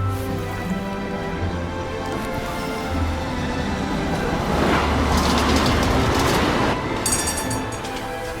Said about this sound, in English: But here's our tram.